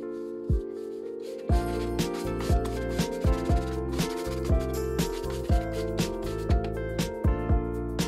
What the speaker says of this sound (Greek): ζύμωμα